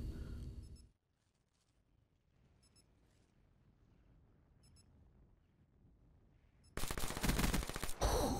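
Rapid automatic gunfire from a shooter video game in a 2v2 match erupts suddenly after a long stretch of near silence, with loud, dense bursts running to the end.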